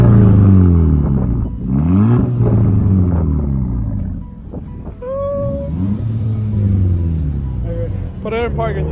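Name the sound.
Audi A3 with 2.5-inch straight pipe exhaust revving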